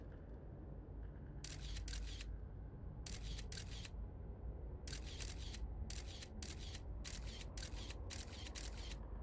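In the video game Outer Wilds, a camera shutter fires repeatedly for a selfie, with crisp clicks coming singly and in quick clusters over a steady low rumbling background.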